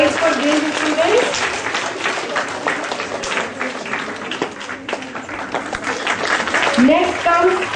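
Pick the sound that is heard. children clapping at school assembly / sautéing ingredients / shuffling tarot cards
children clapping at school assembly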